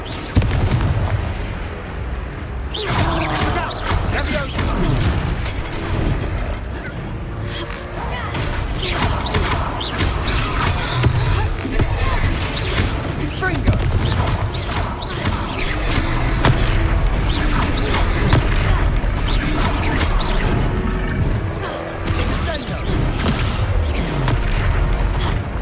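Repeated Confringo fire-spell explosions in the Hogwarts Legacy video game, delivering loud, rapid booming blasts and crashes that continue almost without pause, with occasional voices mixed in.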